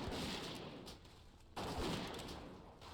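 Bomb explosions and combat blasts in World of Warcraft as a Tinker fights a turret, a loud dense roar that drops briefly near the middle before a second burst rebuilds to full strength and holds, with no talk.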